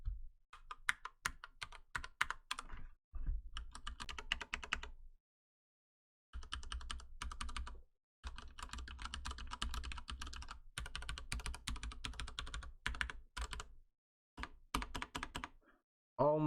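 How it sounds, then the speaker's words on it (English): Typing on a Ducky One 2 Mini 60% mechanical keyboard with brown switches: close, crisp key clacks in fast bursts with short pauses between runs, no voice. "the sound of this keyboard is super nice, as well as just pressing the buttons"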